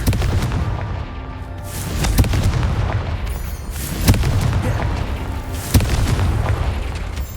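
Confringo fire blast spells exploding in Hogwarts Legacy, loud booming detonations over a constant roar of battle noise, with three distinct impacts spaced a couple of seconds apart.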